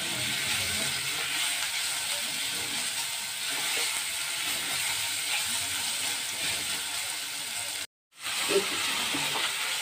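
Young jackfruit fries while being stirred, a dense continuous sizzling hiss close up with faint scraping, steady in level and briefly cut by a short silent gap near the end.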